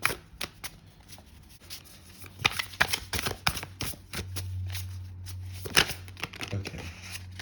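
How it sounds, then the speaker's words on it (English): A tarot deck is shuffled up close, with crisp repeated card riffles and snaps in an uneven rhythm. A steady low hum runs underneath through the second half. "So it feels great to shuffle."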